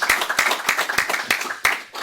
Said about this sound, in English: applause, please, for Adrian.